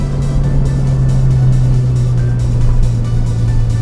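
Honda Jazz GD3 with a VTEC engine pulling hard in first gear on a test drive, a loud, steady engine drone heard from inside the cabin, continuous and without talk.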